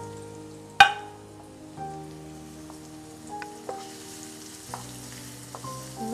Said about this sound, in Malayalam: നല്ലപോലെ ചൂടായി കഴിഞ്ഞു നമുക്ക് ഇതൊന്ന് കൊഞ്ചൊന്ന് ഇട്ട് കൊടുക്കാം.